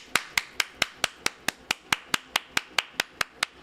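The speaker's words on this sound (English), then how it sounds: "Clap it up for this damn genius" Single pair of hands clapping in a steady, even rhythm, about sixteen sharp claps at roughly four per second, close and alone with no talk.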